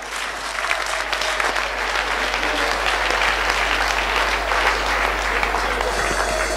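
Congregation at a French-language prophetic church service applauding together, a dense, steady wash of clapping that holds at full strength throughout with a faint murmur of crowd beneath.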